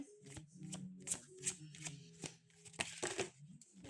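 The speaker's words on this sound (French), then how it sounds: "On va prendre une carte de conclusion." A card drawn from a deck during a card reading: crisp, close papery flicks and slides in a quick rhythmic series, soft and alone without talk.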